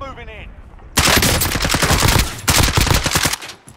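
Video game gunfire from a military shooter, with rapid automatic bursts firing loud and close from about one second, a brief pause, then another sustained burst, after a few quiet opening moments.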